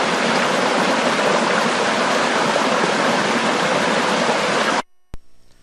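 A small mountain stream in the Steens Mountains of southeastern Oregon rushes steadily and loudly in a dense wash of water noise, then cuts off abruptly near the end.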